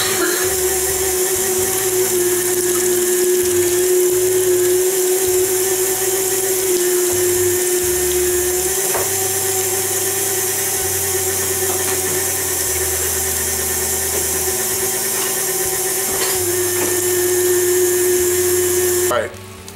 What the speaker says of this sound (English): now we're going to run the pork shoulder through here. It's slightly frozen.